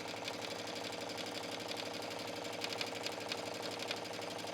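A sewing machine stitching a seam on a denim shirt, a fast, even mechanical whir and rattle running steadily throughout, close and alone.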